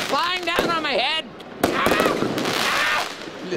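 Fireworks and firecrackers bursting during New Year's Eve celebrations in Ecuador, sharp close cracks and pops in rapid clusters, with excited shouting voices over the top.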